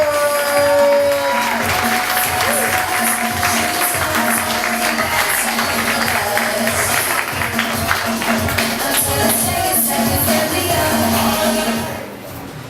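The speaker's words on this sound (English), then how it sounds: "I want y'all to start clapping right now." An audience at a stand-up comedy show claps and cheers loudly in a dense, sustained wash of applause that holds steady for about twelve seconds before tapering off at the end.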